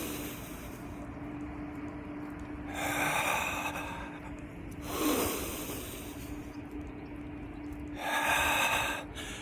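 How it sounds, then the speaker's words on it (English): Three slow, deep breaths drawn in and let out, each a broad airy rush that swells and fades, evenly spaced across a quiet room with a faint steady hum. "take a few deep breaths, not shallow breaths, nice big deep breaths in"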